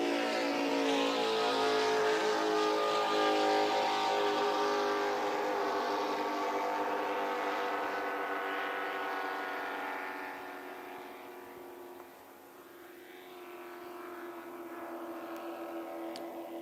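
Offshore superboat racing on a circuit past a marina, its engines roaring loud and close at first, then fading and receding after about twelve seconds, with no talk.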